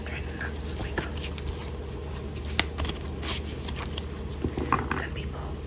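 Tarot cards shuffled by hand in a quiet setting, soft papery riffles and taps repeating irregularly near the microphone, with whispering over them.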